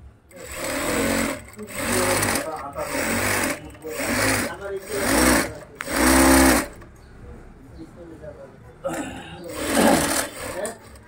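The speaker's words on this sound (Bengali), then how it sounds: "এখানে কিন্তু সুন্দর করে কিন্তু সেলাই করা হচ্ছে" A sewing machine stitches jeans in fast, loud bursts of rattling run after run, with short pauses between them, while someone talks over it.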